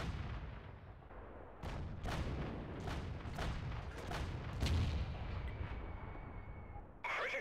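Artillery fire from an FV304 self-propelled gun in a video game: a run of about eight sharp, loud booming shots at an uneven rhythm over a constant rumbling engine bed, with a final burst at the end.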